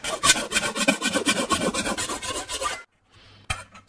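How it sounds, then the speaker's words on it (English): A metal file rasps across a welded steel panel in quick repeated back-and-forth strokes, close and loud, then a short pause before one more stroke. "I'm going to go over it with a file, which will reveal any low spots"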